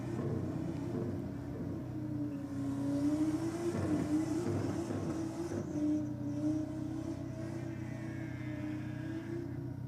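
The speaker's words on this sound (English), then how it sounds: "Nice strong burnout from the skyline" A Nissan Skyline race car doing a burnout at a drag strip roars with a sustained, wavering engine rumble and revving, holding loud and close for about ten seconds without pause.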